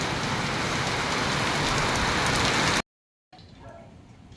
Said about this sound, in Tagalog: ngayon lang ako nakakita ng ganito kalakas na ulan